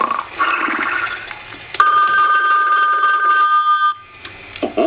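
An electronic toy phone rings with a bright, warbling trill that holds steady for a couple of seconds, with busy chiming toy sounds before and after.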